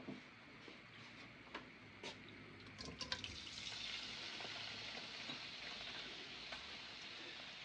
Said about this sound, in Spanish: lo primero que vamos a hacer es sellar nuestros mariscos